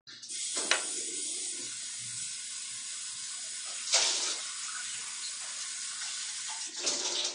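A remotely triggered water dispenser pours water into a cup, a steady hissing stream broken by a few louder bursts as the flow starts and shifts.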